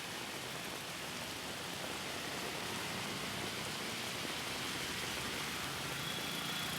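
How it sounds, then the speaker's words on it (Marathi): Light monsoon drizzle falls in Thane, a faint, even wash of rain noise with no distinct drops standing out and a possible low hum of distant traffic beneath. "ठाण्यामध्येही रिमझिम पाऊस पडतोय"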